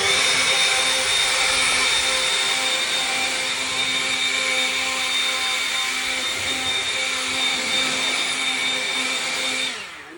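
Blower tool blasting dust out during crew maintenance work, a loud steady whooshing roar with a faint whine, held close and continuous for about ten seconds before cutting off, with no speech.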